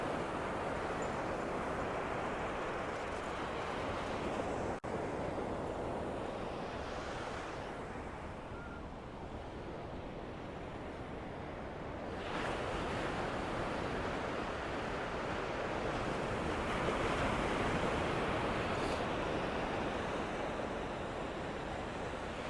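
Ocean waves break and wash along a beach where people fish for whiting, with trawlers offshore, forming a continuous deep surf roar that swells and eases, mixed with gusty wind buffeting the microphone, and no voices.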